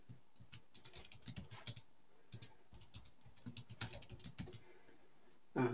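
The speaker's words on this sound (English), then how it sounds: "So I can type in my name and my username and set up a password." Typing on a computer keyboard while setting up a Home Assistant account: bursts of close, crisp key clicks in uneven runs with short pauses, alone, ending in a louder clack.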